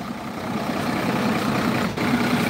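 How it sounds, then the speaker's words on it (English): A hop-on hop-off sightseeing bus idles nearby with a steady, heavy low engine hum and drone that holds for the whole stretch, no voices over it. "It's a hop on and hop off bus."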